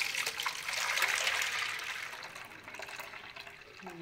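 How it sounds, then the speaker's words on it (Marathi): Water poured gently off settled wheat starch for kurdai, a soft continuous trickle and splash that swells then eases to a quieter dribble, close and steady with no talking. "आपण आता हे हलक्या हाताने यातलं पाणी काढून घेऊया चिकातलं"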